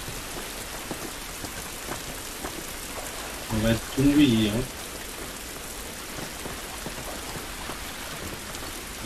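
Continuous rain hisses steadily outside, with a short burst of talking in the middle and the downpour running on alone before and after it.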